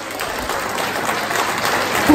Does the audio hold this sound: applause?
yes